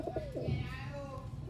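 Sialkoti rooftop pigeons, a breeder's pair, give soft low coos close by, with someone talking over them throughout.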